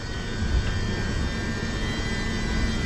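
A British Rail Class 230 train passes close by, a loud, steady roaring rumble with broad noise that stays constant through the short span.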